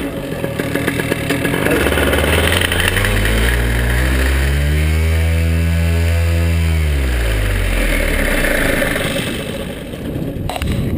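A paramotor engine at an airfield revs up, holds a high whine, then winds back down, loud and close, with a steady buzzing roar throughout.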